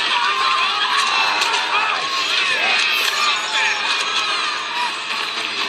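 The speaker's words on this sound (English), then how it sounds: "Look at them, cheering for Greyjoy." Crowd cheering in a Game of Thrones episode as Greyjoy is paraded, a loud, dense roar of many voices with shouts and whoops sustained throughout.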